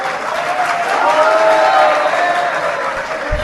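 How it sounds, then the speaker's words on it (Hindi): Audience applause fills a hall during a Jain religious discourse by Sudha Sagar Ji, a steady wash of many hands clapping at moderate loudness throughout. "सुनो ताली तो मत बजाओ भाई"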